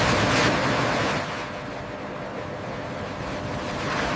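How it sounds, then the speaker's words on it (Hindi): Clean water rushes and splashes over shredded plastic flakes in a washing stage at a plastic recycling factory that makes chairs. The pour is a loud, continuous roar, slightly stronger at the start and end, with no voices. "और फिर से साफ पानी डाला जाता है दूसरी बार धोने के लिए।"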